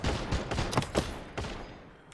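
Gunfire in a competitive mobile team shooter match, several sharp bursts of shots in quick succession, loud and close, with no talk over them.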